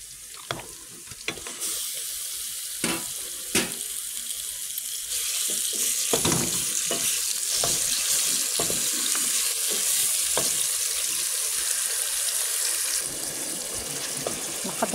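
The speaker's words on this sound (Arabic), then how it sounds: "درت الزيت في الكوكو وحطيت عليها البصله والثومه وغادي نخليها تقلى" Onion and garlic frying in oil in a pot, a bright continuous sizzle punctuated by sharp knocks and scrapes of a utensil, close by, with a watery running undertone and no talk.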